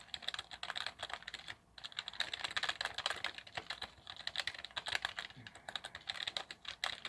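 Fingers type steadily on a Redragon K551 Vera mechanical keyboard, a close, rapid run of clicky keystrokes with brief pauses, alone without speech.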